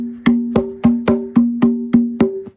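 Small used boogaroo hand drum struck with one hand, nine evenly spaced sharp slaps with a ringing resonant tone decaying between hits, close and clear with no talking.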